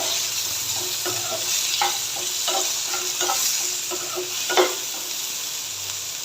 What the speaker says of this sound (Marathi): आता ह्या टोमॅटोसोबत पण हे दोन मिनटं परतून घ्यायचं फक्त हाय फ्लेमवर